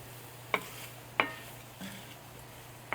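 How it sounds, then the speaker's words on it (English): Chicken and noodles cooking in a cast iron pan, a low steady sizzle with a few sharp clinks of a utensil stirring against the iron, close up and without talk. "Cooking in my good old cast iron pan."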